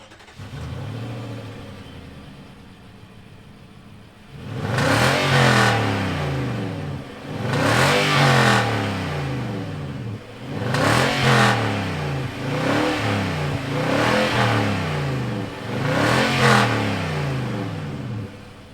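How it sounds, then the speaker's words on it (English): A 2020 Nissan Titan XD Pro-4X pickup's naturally aspirated V8 fires up after a quiet moment, then revs loudly in four or five distinct bursts, each rising and falling, close to the truck with no talking. "let's fire it up and see what it sounds like"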